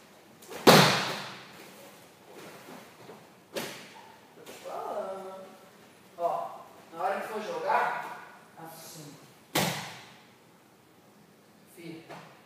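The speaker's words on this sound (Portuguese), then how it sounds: "Empurra a porta, né? Não sei se vai." A door is pushed and slammed shut several times, giving sharp thuds spaced a few seconds apart, with people talking quietly between the impacts.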